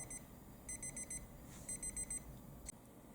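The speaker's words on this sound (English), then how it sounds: "We can hear the alarm going off in the background right now." A digital alarm clock's alarm goes off in a dark room, sounding as repeated bursts of high electronic beeps in clustered groups, fairly faint against a low background hum.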